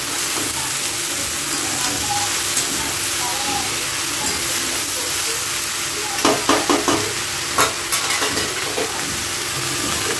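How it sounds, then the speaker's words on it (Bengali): Ridge gourd and eggplant frying in a pan, a steady loud sizzle with hiss throughout, joined near the end by a cluster of sharp scraping knocks from stirring. "দিয়ে আবারও খুব ভালো করে এগুলোকে মিশিয়ে নেবো।"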